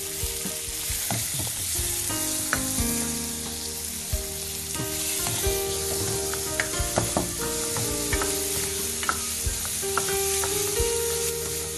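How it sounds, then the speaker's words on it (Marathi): Finely chopped onion frying in a pan, with a dense, steady sizzle and crackle and repeated scraping of a stirring spoon, close and continuous. "कांदा पण आपल्याला व्यवस्थित परतून घ्यायचा."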